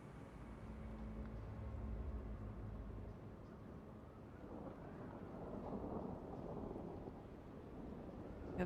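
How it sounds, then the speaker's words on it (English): A winter storm in the city-survival game Frostpunk 2, a steady low roar of wind with rumbling gusts swelling midway, faint and continuous. "Have the winter storm cackling in my ears"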